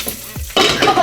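Popcorn kernels tipped into hot oil in a pot: a brief quiet scrape, then a sudden loud, close burst of crackling sizzle that holds steady to the end.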